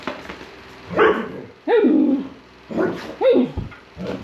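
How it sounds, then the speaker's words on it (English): A dog barks, yelps and whimpers while playing on a newly polished concrete floor in an old stone farmhouse, with several loud close bursts separated by short pauses. "The dog is having a funny 5 minutes on my new floor."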